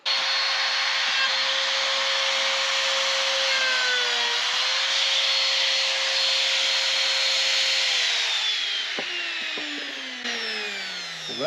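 A bit on a power router cuts a shallow groove, about 1/16 inch deep, into wood, sounding as a loud, steady, high whine with broadband cutting noise that lasts about nine seconds and then winds down with a falling pitch.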